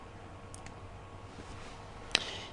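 A single sharp mouse click on an OK button in AutoCAD, close and crisp, standing alone over a quiet room hum with a couple of fainter ticks just before it.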